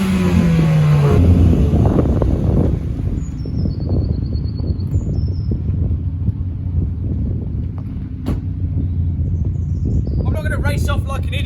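A 1996 Saab 9000 CSE 2.3 Turbo starts up in a hotel car park, heard close at the exhaust pipe as a steady low engine rumble with some wind buffeting the microphone.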